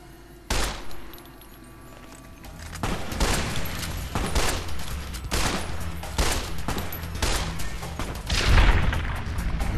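Gunfire from the video game Fallout: New Vegas, several sharp, loud shots with reverberant tails and one heavier boom, spaced irregularly across a noisy background, with no talking.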